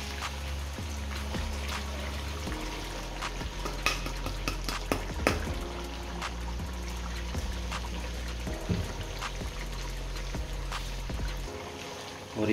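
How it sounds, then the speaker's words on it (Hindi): Chicken karahi with added ground onion gravy is stirred and fried in a pan, a steady sizzle under repeated scraping and clinking of a spoon against metal, close and without speech. "और इसको अच्छे तरीके से मिक्स कर देना और इसकी बड़े अच्छे तरीके से हमने भुनाई करनी है।"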